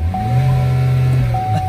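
A loud engine idles and rumbles steadily close by in a parking area outside a hotel at a motocross event, with a low sustained drone and a faint whine above it, and no voices over it.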